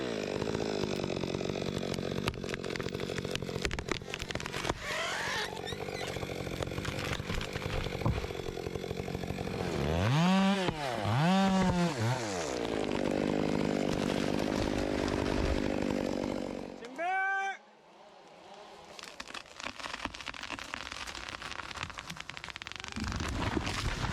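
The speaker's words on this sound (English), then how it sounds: "massive trees crash to the ground under the fierce roar of the chainsaw" A chainsaw cuts through large trees outdoors, roaring continuously and loud, with several sharp rising-and-falling revs midway and a brief drop to near quiet before the engine picks up again.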